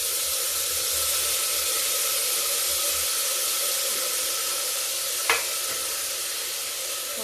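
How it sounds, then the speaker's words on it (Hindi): Moong dal and carrot frying in a pan, a steady, loud sizzle and hiss that continues throughout, with a single brief clink of a utensil near the end. "इसी समय डाल के थोड़ा भूनते हैं।"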